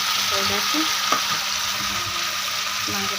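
Meat frying in a pan with a steady, loud sizzle and occasional stirring scrapes, heard alone at close range.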